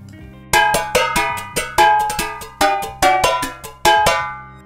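Brush strokes hit the edge of a muted gong, roughly a dozen loud, close metallic strikes with a trashy, clanking ring, in a lively uneven pattern that decays briefly after each hit.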